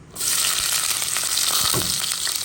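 Onions dropped into hot oil in a pot burst into a loud, steady sizzle that starts abruptly and holds as a dense crackling hiss, with light stirring knocks underneath.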